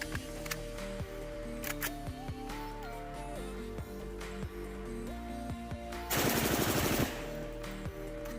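A .308 rifle fitted with a Big Daddy Unlimited wide open trigger fires one rapid, loud, close burst of shots near the end, after a stretch of quieter handling sounds.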